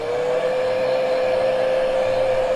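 A hair dryer blows steadily to dry wet paint on a painting, a loud continuous whine and rush of air close by for the whole stretch, with no talk.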